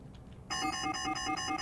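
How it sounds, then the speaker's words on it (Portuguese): After a brief quiet moment, a bright electronic alarm in a detective video game starts ringing in a steady repeating pulse, moderately loud and continuous. "Quem disparou o alarme"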